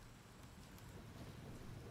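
Steady rain falls in the video game Empyrion Galactic Survival, a dense, continuous hiss of drops on surfaces with a faint low rumble beneath, unbroken and without voices.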